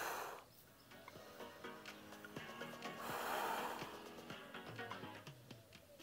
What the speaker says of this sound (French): On inspire, là on expire.